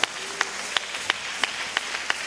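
Congregation at a church service claps in a steady, even beat, about seven crisp claps spaced evenly over a couple of seconds against a quiet room.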